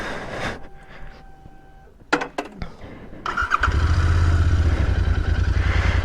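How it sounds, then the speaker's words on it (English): A Royal Enfield Interceptor 650 twin-cylinder motorcycle being started close up: a starter clatters briefly, a few mechanical clanks follow, then the engine catches and settles into a loud, steady, throbbing idle. "Unmistakable sound of a twin there."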